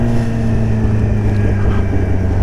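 A 2024 Kawasaki ZX10R with an SC Project exhaust under way, its engine droning steadily and loudly with a strong low rumble and mixed-in wind rush throughout, no talking.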